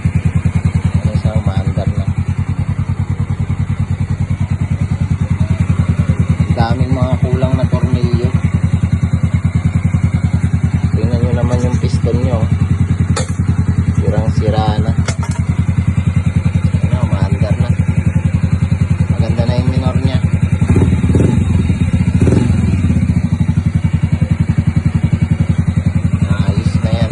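A Yamaha Mio M3 scooter engine runs after a cylinder block replacement, idling with a steady close hum and light clatter. People talk intermittently over it in a workshop.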